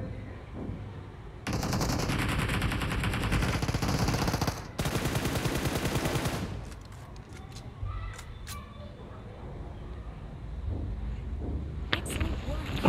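Rapid bursts of machine-gun fire dominate a shooter video game, with a long continuous volley followed by a second sustained burst, then scattered single shots and quieter ambient crackle near the end; a voice talks throughout.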